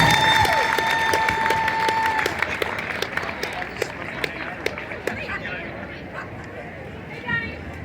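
Outdoor crowd applauding a performer at an evening event before a 5K run and walk in downtown Columbia, South Carolina, with dense clapping and cheers that thin out as voices and background chatter carry on.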